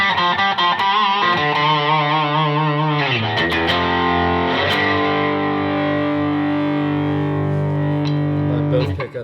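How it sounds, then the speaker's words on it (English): A Squier 60s Thinline or Fender 52 reissue Telecaster on its bridge pickup with a touch of distortion, loud and close: quick picked notes first, then sustained ringing chords. "That's the bridge pickup with just a little croak."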